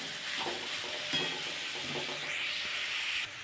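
Ginger-garlic spice paste sautéing in oil for a cauliflower and egg dish, a steady soft sizzle with intermittent scraping stirs of a spoon in the pan, fairly quiet and close, no voices.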